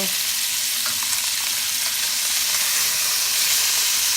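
A fish steak fries Tagalog style in a hot pan, a loud continuous hiss and sizzle of oil that stays even and close throughout, with no voices.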